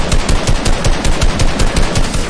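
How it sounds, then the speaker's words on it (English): A minigun in Fortnite fires nonstop, a loud, dense, rapid rattle of shots that keeps going evenly from start to finish, no voices. "Please, not the minigun, sir."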